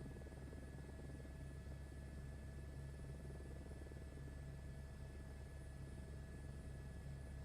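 A helicopter in a flight simulator gives off a constant, even drone of engine and rotor hum with a steady tonal whine, unchanging and fairly faint throughout.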